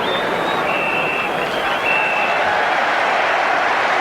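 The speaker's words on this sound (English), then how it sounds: "Generous applause for Manchester United at half-time." A stadium crowd at a Tottenham Hotspur versus Manchester United football match applauds at half-time, a broad distant roar of clapping under a whistle-like tone, with commentary voice present.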